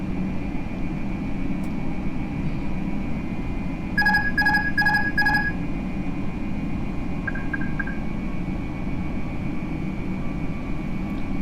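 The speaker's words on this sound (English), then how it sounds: "Gotta love the Airbus beeping." A quick burst of four sharp electronic beeps from an Airbus A321 cockpit alert in a flight simulator during landing preparation, then a shorter fainter chirp, over a steady engine drone.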